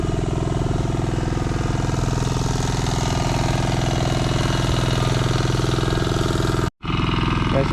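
Steady droning hum of a small grass cutter engine running at even speed, close and constant, with one brief cutoff near the end.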